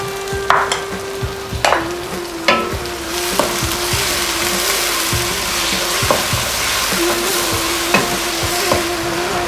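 A vegetable mixture with added sauce cooks in a pan, giving a steady close sizzle and frying hiss with a faint tonal hum and scattered sharp taps and scrapes of stirring utensils, with no one talking.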